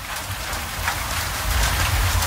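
Steady rain falling, a dense continuous hiss of drops on a surface with a low rumble beneath, close and fairly loud, with no voices.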